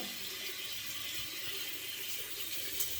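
Tap water runs steadily over a 24mm synthetic shaving brush, a continuous close hiss of flowing water in a sink with no talking.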